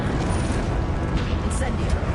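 A Confringo explosion spell in Hogwarts Legacy bursts into a loud, rumbling fiery blast with a sustained roar and crackle, while a voice speaks over it.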